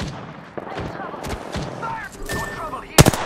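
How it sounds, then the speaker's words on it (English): Gunfire bursts from the video game Apex Legends, with sharp shots crackling amid game effects and a player talking, ending in a loud close crack near the end. "They're shooting at me."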